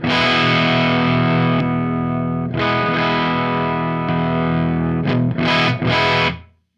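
An electric guitar runs through a Lichtlaerm Audio Aquaria Overdrive v2 pedal with a 6 dB clean boost, giving a loud, sustained overdriven chord, then several shorter chord stabs that ring and fade out.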